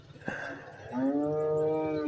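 A cow at a buffalo and cattle market gives one long, loud, close moo that swells and holds to the end, with faint market noise beneath.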